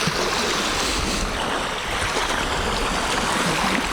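High waves breaking on a lake shore in Lapland, a dense continuous wash of surf and rushing water, loud and close, with no voices.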